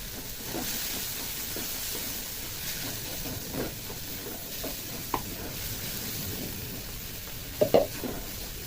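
Spices for pasta, with salt, turmeric, green chilli and dried chilli powder, sizzle in a pan with a splash of water, a steady close hiss with occasional soft stirring clicks and a sharper clatter near the end.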